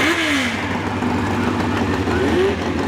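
A motorcycle at a hill climb, fitted with what looks like a Honda 750 engine and running in the 500 class, revs up and down in loud, rising and falling sweeps, with a voice faintly in the background.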